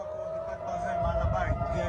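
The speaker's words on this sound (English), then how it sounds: "Sirens fill the night sky over Tel Aviv." Air raid sirens wail over Tel Aviv at night, a steady sustained tone droning through the whole stretch beneath a low rumble of background noise and voices.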